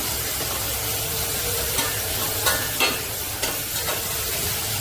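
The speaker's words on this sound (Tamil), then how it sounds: "அதனால் வதங்கட்டும்" Masala sautéing in a pan for Andhra-style fish gravy, a steady close hiss and crackle of frying with several short scraping stirs of a spoon against the pan.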